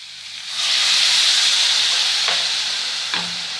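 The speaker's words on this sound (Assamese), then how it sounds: "এতিয়া মই পানী এড কৰি দিম" Water poured into a hot pan of frying chicken biryani masala on a medium gas flame sets off a loud, close, sustained hiss and sizzle that swells quickly, then eases slightly, with faint stirring knocks.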